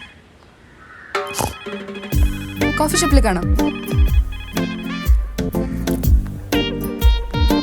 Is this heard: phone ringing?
yes